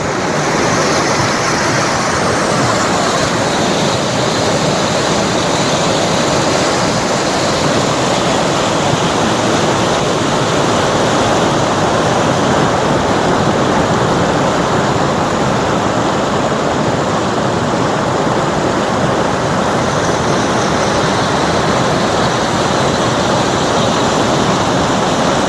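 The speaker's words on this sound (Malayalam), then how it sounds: "നല്ലോണം കുത്തിയൊലിച്ച് ഒഴുകുന്ന വെള്ളം കണ്ടില്ല, നല്ല അടിപൊളി വെള്ളമാണ്." Indus river rushing past a bank in Kashmir near Sonamarg, a loud, dense, unbroken roar of fast-flowing water that holds steady throughout with no voices.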